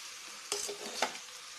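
Gram flour being stirred and fried in a pan, a soft steady sizzle with two brief scraping strokes of a utensil, fairly quiet and close, with no voices.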